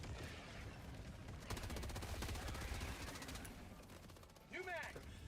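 Rapid automatic gunfire against bugs in the video game Helldivers 2 rattles in a dense, fairly faint burst mid-clip, over a constant low rumble of battle noise.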